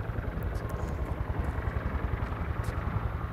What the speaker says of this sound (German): Ist das da draußen ein Hubschrauber?